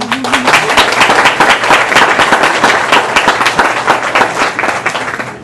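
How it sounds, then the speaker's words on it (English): A crowd at a Class of 2019 senior potluck claps steadily and loudly throughout, dense applause with a few cheers mixed in, continuous from start to finish. "can we just go ahead and clap for them right now?"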